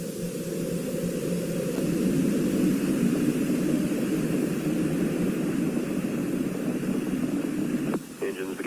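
The Space Shuttle Challenger's engines roar after liftoff as the vehicle clears the tower, a broad, constant rumble that holds steady for several seconds before a brief dip near the end.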